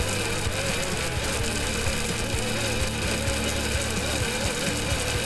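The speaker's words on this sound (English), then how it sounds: "the slower RPM really takes a longer time to get through the grain" A grain mill runs at slow RPM crushing unconditioned malt, producing a steady, loud mechanical drone with a low hum and fine rattling ticks, continuous and close with no talk.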